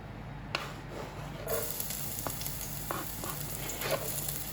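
Garlic sizzles and crackles steadily in a hot pan for pork adobo, a soft, continuous frying hiss with a few faint stirring clicks.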